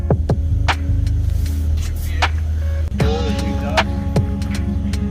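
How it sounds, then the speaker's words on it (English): A 2021 Subaru Impreza with a Nameless quad-tip muffler-delete exhaust throbs loudly up close, rumbling at idle and then rising through several sharp revs with a deep, droning tone. "Got the first run on the new quad tip. Muffler delete."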